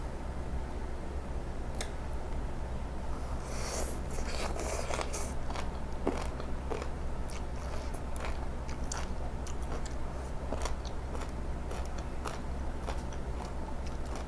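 Close-up mukbang eating of stir-fried green onions with oyster sauce: a run of crisp bites and wet chewing, irregular crunchy clicks over a quiet room, with no speech.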